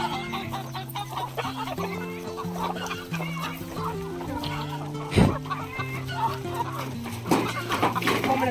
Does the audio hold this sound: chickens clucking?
yes